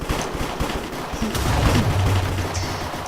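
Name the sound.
gunfire shootout in the video game Minecraft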